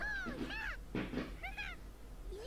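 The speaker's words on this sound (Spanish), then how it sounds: "no somos nosotros, es el gato" House cat meowing several times in quick short calls, close but fairly soft, indoors.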